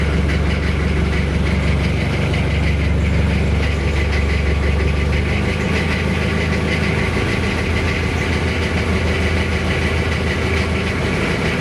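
A heavy single boat engine rumbles steadily and loudly at idle, a constant low drone with no pauses or voices.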